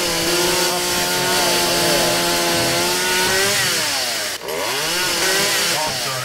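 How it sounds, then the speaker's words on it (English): A chainsaw in the zombie survival game 7 Days To Die runs continuously, its engine buzz rising and falling in pitch, with one short drop-off near the end before it revs back up. "Holy shit, Jake has a chainsaw."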